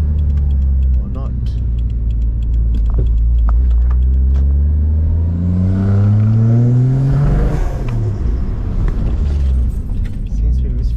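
A Toyota 1JZ engine with a custom exhaust revs loudly and close by, its pitch sweeping up under throttle and dropping back, with uneven popping that suggests misfiring, and a voice speaks briefly over the engine.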